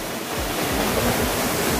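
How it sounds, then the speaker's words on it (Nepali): Didi Bahini waterfall, a small cascade on a hillside near Sundarnagi, pours in a dense, constant rushing hiss with low churning surges, close and loud, with no voices. "यहाँ यसको उयो झरनाको नाम चाहिँ दिदी बहिनी झरना हो"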